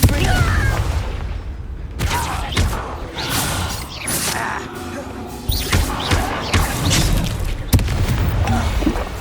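Explosive spell blasts from the Hogwarts Legacy video game land as several sharp booming bursts, spaced a few seconds apart, over a busy bed of game effects and voices.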